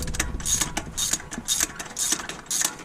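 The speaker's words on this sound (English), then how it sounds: "Just a regular ratchet" A regular hand ratchet clicks repeatedly while removing spark plugs in a car engine, close-up, in bursts of quick pawl clicks with short pauses between strokes.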